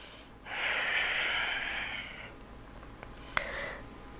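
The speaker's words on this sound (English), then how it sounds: "Make your forehead dragon breathing." A forceful dragon-style breath during a beginner cardio yoga flow: one long, loud, hissing exhale lasting almost two seconds, then a short sharp sniff-like burst. No talking.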